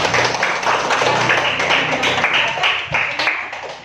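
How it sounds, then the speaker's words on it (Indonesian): Audience clapping fills a classroom after a group presentation, a dense steady patter of many hands held at a fairly loud level for several seconds and tapering slightly toward the end. "Berikan aplaus dulu untuk gotong royong"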